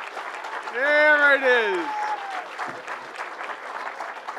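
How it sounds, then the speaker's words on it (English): An audience at a governor's public event in Monticello applauds a girl named Zaira; someone speaks briefly over a steady, moderate wash of clapping that carries on after his voice ends. "Let's give Zaira a big round of applause"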